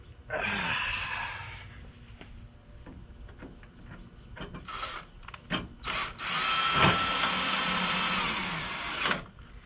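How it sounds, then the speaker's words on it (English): A power drill drives screws into a new headlight housing on a 2004 vehicle, with short whirring bursts close by amid clicks and handling noise. "let me get the screws in"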